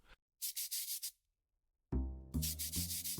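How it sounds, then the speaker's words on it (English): Short bursts of rough fingernail scratching on the wood of a coffin, heard from inside, separated by a pause, with a low resonant thud under the later scraping strokes. "The sound of fingernails on wood coming from beneath my feet."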